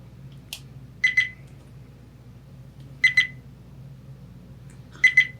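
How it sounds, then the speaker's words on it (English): A VIOFO A129 Pro dash cam with no memory card inserted beeps in three evenly spaced double chirps, each pair short, bright and close, over a quiet room with no voices. "So it's beeping at me since I don't have a memory card"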